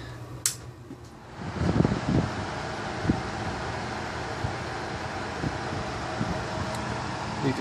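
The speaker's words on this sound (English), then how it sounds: "I'm gonna put this so you can hear the wind noise" Eskimo 10-inch window fan blowing air, a steady close rushing whoosh that rises after a brief bump and holds evenly, with a few faint clicks and handling knocks.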